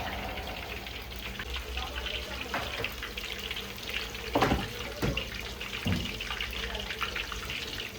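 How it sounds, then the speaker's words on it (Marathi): Prawns frying in a thick masala at a seafood restaurant, a soft continuous sizzle with a few louder thumps and clatters partway through. "कोळंबी फ्राय चालू आहे मसाल्यामध्ये"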